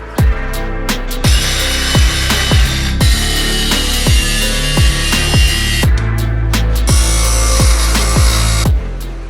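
A loud power saw grinds through metal with rhythmic thumps and bursts of harsh, gritty noise, running steadily for several seconds, cutting a metal piece for a Kawasaki WR250R motorcycle fender eliminator.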